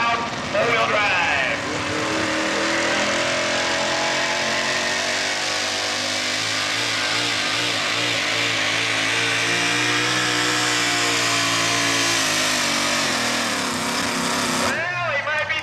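A 6,200-pound four-wheel-drive pulling truck, the Buckeye Shaker, roars at full throttle down a truck and tractor pull track, a loud sustained engine drone with shifting pitch under continuous crowd and announcer talk.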